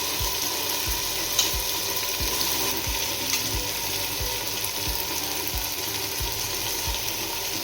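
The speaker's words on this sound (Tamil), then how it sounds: "எறா போட்டு நல்லா வதக்குறோம்" Prawns sautéing in a pan for biryani, a loud steady sizzle and hiss of frying with a faint low rhythmic pulse underneath, close and continuous with no talking.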